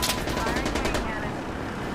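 Main cannon fire from the Death Stranding video game comes as a loud, rapid series of sharp blasts in a steady rhythm over the first second, then trails into a dense rumbling wash.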